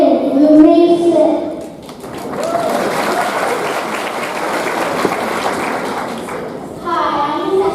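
Audience at a Barbizon contestant event bursts into applause for about five seconds, a broad clapping crowd that swells and then settles, framed by a young voice speaking before and after.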